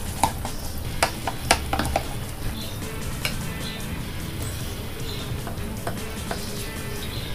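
Homemade grape wine being stirred in a vessel, with a cluster of sharp clinks and knocks of the spoon early on, then quieter scattered taps over a low background and no speech.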